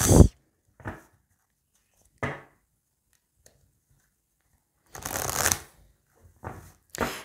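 Oracle cards are shuffled and handled up close in a handful of short, crisp riffling bursts separated by near silence, with one longer shuffle partway through.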